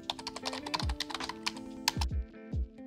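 Computer keyboard keys pressed during photo editing in Lightroom, a rapid run of close, crisp clicks with a few heavier thumps, played alone without talk.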